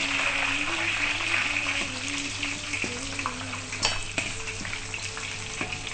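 Sweet potato leaves sizzle steadily in hot oil, a continuous crackling hiss with occasional clinks of a utensil stirring, and a faint musical tone underneath.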